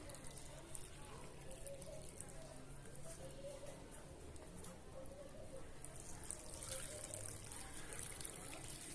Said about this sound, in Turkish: Şöyle sulama suyunu ben gübreli suyla yapıyorum.